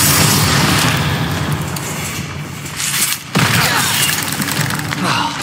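Confringo blasting spell explosions in the Hogwarts Legacy video game, a dense, continuous barrage of loud booming blasts and crackling bursts that runs almost without pause, with one brief dip before it resumes at full force.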